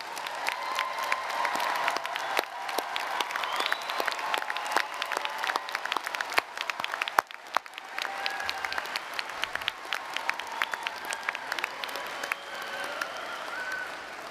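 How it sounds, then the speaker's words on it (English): Loud, sustained applause from a large commencement audience honoring standing service members and veterans, dense clapping filling the hall with some cheering mixed in, continuing steadily throughout. "give you a huge round of applause"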